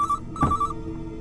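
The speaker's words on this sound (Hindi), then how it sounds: "श्वेता फोन उठा लेना।" A telephone rings in a home setting in a scene from the Hindi action film Khakee, with a brief trilling electronic bell tone repeating in quick bursts, clear and close without talk.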